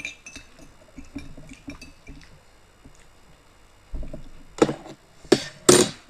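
A spoon knocks and clinks inside a glass of cold spiced juice as it is stirred. A few faint taps come first, then three loud, sharp clinks close by near the end.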